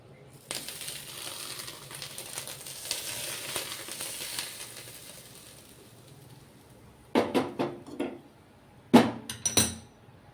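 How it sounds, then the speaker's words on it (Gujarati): Hot oil tempered with mustard seeds, cumin and asafoetida is poured onto dhokla, making a hiss of sizzling and crackling that fades out, followed by a few sharp clinks and knocks toward the end. "આ વઘાર તૈયાર થઈ ગયો છે તો ઢોકળામાં એડ કરી દેશું"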